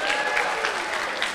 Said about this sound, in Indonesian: tepuk tangan yang merah untuk Julio Anderson.